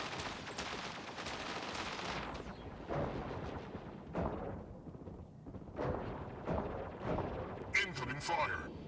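Robotic combat in the Mech Arena video game: repeated bursts of incoming weapon fire and blasts pound over a dense, steady battle din, with a cluster of sharper, brighter hits near the end.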